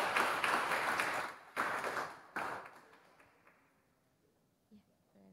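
Online course audience applauding two session speakers, a burst of clapping that dies away within about three seconds, followed by faint quiet with a small tap near the end.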